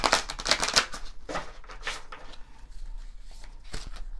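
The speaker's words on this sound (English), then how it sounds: "Just shuffle that one more time." Tarot cards being shuffled by hand, a quick cluster of crisp papery riffles and slaps in the first second, then softer, sparser shuffling bursts that fade toward the end.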